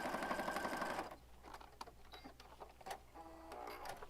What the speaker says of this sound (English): All right, we'll stitch up the other side.